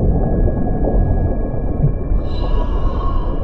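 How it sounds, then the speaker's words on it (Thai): A deep, rumbling roar in the horror game Coagulation Station, loud and continuous low growling that fills the space, with a thin high eerie tone entering partway through and no speech. "มีเสียงอะไรคำรามอ่ะ"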